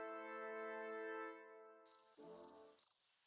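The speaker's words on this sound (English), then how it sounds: "The crickets are into it." Crickets in the video game Avatar Generations: three quick bursts of high, bright chirping in a steady rhythm, coming right after a sustained harmonic musical tone fades, clean and fairly close.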